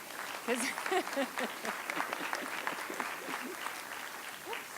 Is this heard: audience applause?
yes